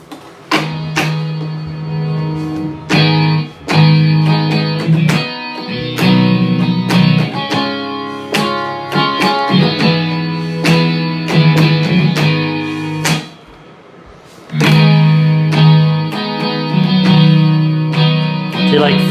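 Clean electric guitar on an AeroBand digital guitar with a Fender-style clean preset, strummed and picked in chords, bright and ringing, playing continuously with a brief pause midway.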